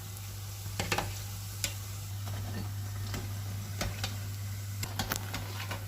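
Lokma dough balls fry in hot oil on a stovetop with a soft, steady sizzle, while a utensil stirs them and taps the pan in occasional sharp clicks beneath a constant low hum.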